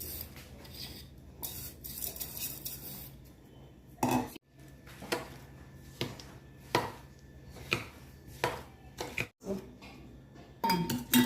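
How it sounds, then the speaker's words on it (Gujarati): Sugar being stirred into curd in a bowl with a utensil, giving a series of scraping, clattering strokes at an uneven rhythm, close and moderately loud, with no talking. "ચલો જો આ મેં દહીં અને ખાંડ મિક્સ કરી લીધી"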